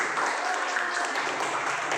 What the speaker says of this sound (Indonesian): tepuk tangan dulu untuk Jimmy.